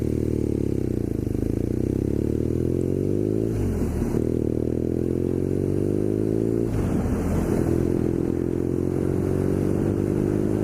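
A BMW R nineT Scrambler of about 110 horsepower is ridden with no wind protection. The engine drones loud and steady, its pitch climbing through each gear and dropping briefly at two shifts, with wind rush and no talk.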